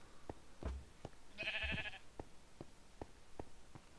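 Cow mooing from the video game La Abducción, a single bleating-like call of about half a second rising over a steady, regular series of sharp knocks or footsteps in the game audio.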